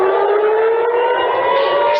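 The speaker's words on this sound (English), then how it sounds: "Sirens are blaring as a new wave of Iranian missile attacks began early this morning." Civil defense air raid sirens wail in Israel during an Iranian missile attack, a loud, sustained rising tone that holds steady and slowly climbs in pitch with no voices over it.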